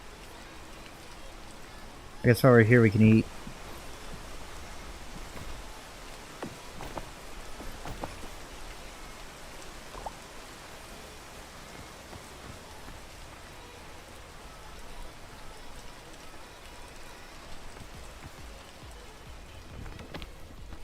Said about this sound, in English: We gotta wait for the rain.